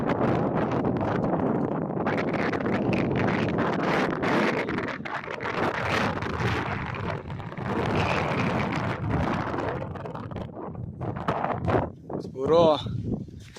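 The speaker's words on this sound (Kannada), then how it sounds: "ಯಪ್ಪ ಎಂತ ಗಾಳಿ ಬೀಸ್ತಾ ಐತೆ" Strong wind buffeting the microphone at a hilltop temple, a constant heavy rumbling roar that eases and gusts again, with a person talking over it.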